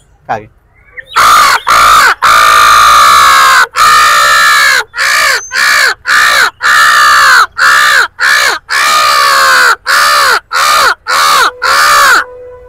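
Mimicry artist imitating a crow with loud, close, harsh cawing calls, around fifteen in an uneven sequence of short and longer caws separated by brief pauses.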